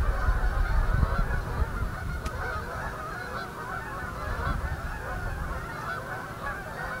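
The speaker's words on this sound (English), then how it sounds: "Probably hear the geese that nest here all season long." Geese that nest on a golf course keep up a thick, steady chorus of honking at moderate distance, with a low thump near the start and no voices.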